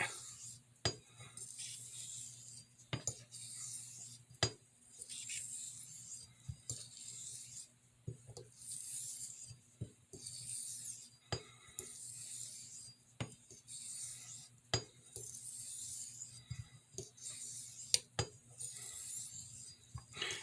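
A straight razor honed on a vintage coticule stone gives faint, rhythmic rubbing strokes, each a soft rasp, repeated evenly over a quiet low hum.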